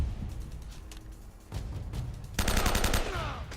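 Gunfire in the video game Uncharted 1 comes as bursts of rapid automatic shots, sparse at first and then a loud, dense volley near the end, with a low rumble underneath.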